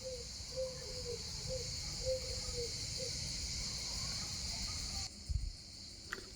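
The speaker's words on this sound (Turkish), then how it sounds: "dağlara baksana cırcır cır böcekleri cır cır ötüyor" Crickets chirp steadily across olive groves in hilly countryside, a faint continuous insect trill with a few short bird-like calls, ending in near-silence with brief rustles.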